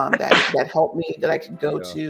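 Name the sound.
sneeze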